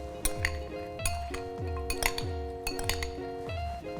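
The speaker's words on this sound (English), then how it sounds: "I'm going to add these walnuts" Walnuts, apple pieces and pomegranate seeds tossed in a bowl with utensils, producing a steady run of bright clinks and scrapes at a regular rhythm, close and moderately loud with no talking.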